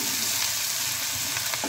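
Grated ginger sizzles in hot oil in a pan for pav bhaji, a loud, steady frying hiss throughout with faint stirring.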